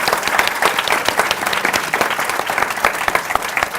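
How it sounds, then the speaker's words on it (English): Applause closing a conversation on measuring women's and girls' empowerment, a lively, dense patter of many hands clapping throughout, uneven in strength and loud, without speech over it. "applause to Rachel and our family"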